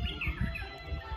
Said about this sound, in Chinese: 可以听到 自然的 鸟儿鸣叫